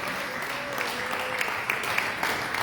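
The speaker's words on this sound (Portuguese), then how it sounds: "Você pode aplaudir a Deus." A church congregation applauds during a sermon, a continuous diffuse wash of clapping with a few louder claps standing out. Soft tonal sounds run underneath.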